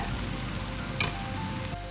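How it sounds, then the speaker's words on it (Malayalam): Garam masala is stirred into masala oats in a hot pan, giving a steady, close sizzle throughout with one brief scraping stir in the middle. "മസാല ഇതിനകത്ത് നന്നായിട്ടൊന്ന് ഇളക്കി ചേർക്കാം"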